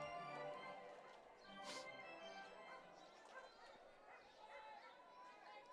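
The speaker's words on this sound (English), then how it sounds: "We're hearing some barking from the stands here." Scattered dog barks and yips sound from a distance amid a noisy crowd in the stands at a college softball game, with voices talking throughout.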